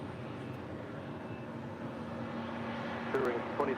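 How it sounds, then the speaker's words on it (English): A Spirit Airlines Airbus A320neo arriving from Atlanta onto runway 25 right at LAX, heard as a steady broad jet roar that swells slightly near the end, distant and continuous. "Coming in from Atlanta, Georgia, it's Spirit Airlines Flight 1829 and this"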